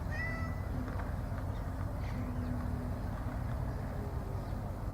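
A cat meows near the spot where a 14-foot concrete light pole is being put up outdoors. A couple of clear meows come at the start, then a steady low rumble of background noise carries on with no talking.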